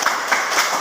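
A university class in Padang breaks into brief, dense clapping that stays loud and steady for under a second.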